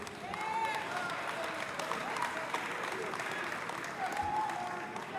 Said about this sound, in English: let's give a round of applause to the two boxers